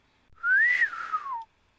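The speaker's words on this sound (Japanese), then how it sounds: "鋭く口笛を鳴らすとそのまま闇へ消えた" A single sharp whistle rises then falls in pitch, lasting about a second, clear and alone against silence.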